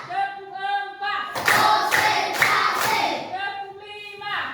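Children in a classroom break into a short burst of rhythmic group hand clapping, framed by a teacher's speaking voice before and after.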